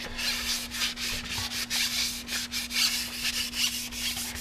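Sandpaper rubs back and forth over anodized aluminium fork legs from a Yamaha FZR motorcycle being restored, a steady close scraping with rhythmic strokes over a constant low electrical hum.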